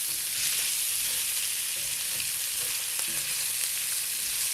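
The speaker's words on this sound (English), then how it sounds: "just stir these around for a second and get them kind of coated in the fat" A mix of chanterelle, porcini and amanita mushrooms with a little meat fries in fat with a dense, steady sizzle, stirred gently, close and loud with no talking.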